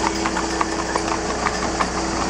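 A horse pulling a carriage clip-clops past on the street, its steady hoofbeats heard at moderate distance over a constant low engine-like hum and traffic noise.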